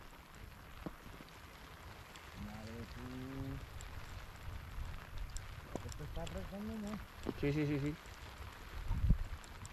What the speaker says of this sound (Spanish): ¿Cómo llueve, tío?